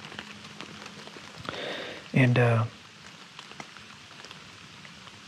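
Heavy driving rain pours down on a camper sheltering under contractor bags and a jacket in Pennsylvania, a steady close wash of drops with a brief louder burst as a voice speaks.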